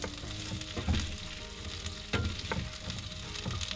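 Gnocchi frying in a pan in a camper van kitchen, a close, dense sizzle with bursts of scraping and clattering as it is stirred, and no voices.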